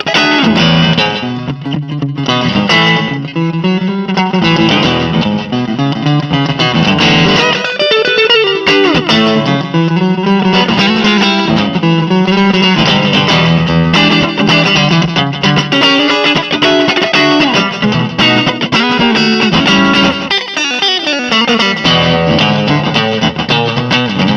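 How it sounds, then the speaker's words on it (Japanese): Electric guitar played with distortion through a Limetone Audio buddy delay pedal set to a short time, each note answered by one quick, short echo, giving a slapback feel throughout. "ディレイタイムも結構短めなんで、弾くとすぐパッパって返ってくる。"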